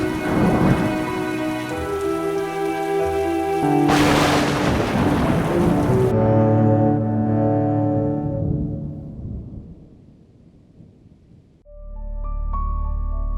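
A loud animated-cartoon rainstorm, with dense rushing rain and booming thunder layered under a swelling orchestral score that fades before a new musical passage begins.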